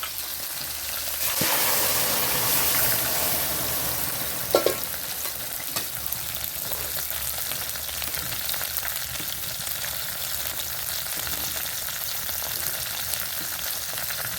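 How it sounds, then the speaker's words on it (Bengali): Boiled lentils and taro go into a pot of curry and bubble and sizzle steadily, with a few sharp clinks of a utensil against the pot early on. "এবার আমি সিদ্ধ করে রাখা ডাল আর কচুটা ফুটে দিচ্ছি।"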